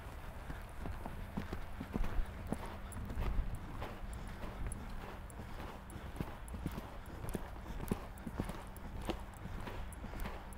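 Horse hooves beat in a steady rhythmic clip-clop as the horse moves into a gallop during a jumping lesson, moderately close and fairly quiet, with no talk over the hoofbeats.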